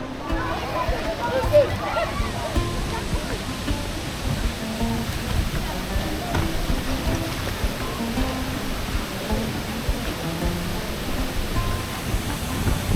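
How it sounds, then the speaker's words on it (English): Ouzoud waterfall in Morocco, heard from a small paddled boat close beneath the falls: a steady, dense rushing roar of water, constant throughout with no breaks, with a faint voice or two now and then. "We're about to take a ride under the waterfall now."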